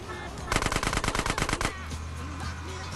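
Automatic gunfire from a car during a drive in GTA San Andreas, a rapid burst of about a dozen sharp shots lasting roughly a second, followed by the low drone of the in-game engine.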